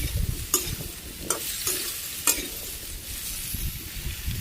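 Ash gourd sautéing in a pan with green chilies and salt, giving a soft steady sizzle broken by a few sharp scraping strokes of a stirring spoon, with no voices.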